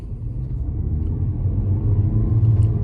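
A 2022 Lexus UX 200 pulls away on the road, its low engine rumble and road noise building steadily and growing slightly louder toward the end, with no talking.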